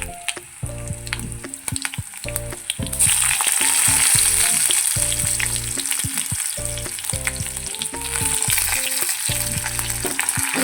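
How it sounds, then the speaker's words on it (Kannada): Onion, garlic, fennel and cumin sizzle steadily in hot oil for sambar, a loud, continuous close frying hiss that intensifies partway through, with intermittent stirring knocks and background music. "ಇದನ್ನ ಎಣ್ಣೆಗೆ ಹಾಕ್ಕೊಂಡು ಫ್ರೈ ಮಾಡ್ಕೊಂಡಿದ್ದೀನಿ."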